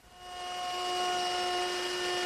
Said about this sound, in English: I'm just going to use my router with a 1/4-inch rounding over bit